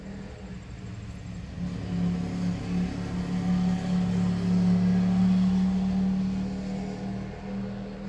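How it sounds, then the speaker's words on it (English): A motorbike engine idles and rumbles nearby, swelling a little louder in the middle before easing off, with no talking. "I was like, what is that noise? It was like a motorbike."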